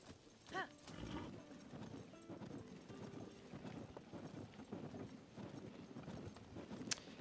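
Horse hooves clip-clop in The Legend of Zelda: Tears of the Kingdom, a steady run of hoofbeats with an occasional whinny, moderately loud under faint background game sounds.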